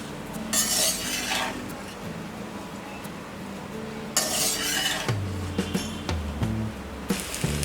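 Cooked rice and fried potatoes being stirred together in a pan, giving repeated scraping, rasping strokes with occasional clinks of the spoon against the metal, fairly close and steady with short pauses.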